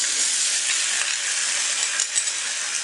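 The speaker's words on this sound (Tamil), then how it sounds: "இதே நெய்யில ஊற வச்சு வச்சிருக்கிற ஜவ்வரிசியை இதுல போட்டு நல்லா மிக்ஸ் பண்ணி விட்டுருங்க" Soaked sago stirred into hot ghee in a pan gives a steady, dense sizzle with faint scraping, loud and continuous throughout with no voices.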